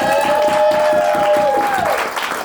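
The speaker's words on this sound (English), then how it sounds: "give her a massive round of applause" A crowd at a spoken word poetry event applauds a poet, a full burst of clapping under a sliding tonal sound that tapers off near the end.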